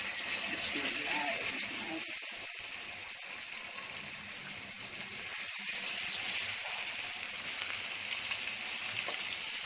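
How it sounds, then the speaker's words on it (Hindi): Fish pieces frying in hot oil for a Konkani seafood lunch, a steady close sizzle and crackle that runs through the whole clip with small bubbling bursts and faint kitchen movement. "तेल गरम करने के बाद उसमें डाल रही हूँ मच्छी।"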